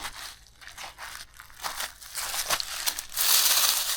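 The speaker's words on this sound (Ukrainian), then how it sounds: "Сушина така, що все хрумтить, трещить." Dry forest litter crunches and crackles underfoot during a September mushroom hunt in a parched woodland. The crisp crinkling steps come close and fairly quiet at first, then grow louder and denser toward the end.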